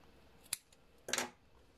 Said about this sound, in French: je vais couper le fil qui va à la pelote